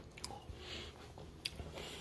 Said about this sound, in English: Gotta be chewing those Oreos.